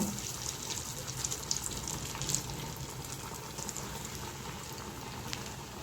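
Vegetable cutlets fry in oil, with a steady, fairly faint bubbling sizzle and occasional small crackles.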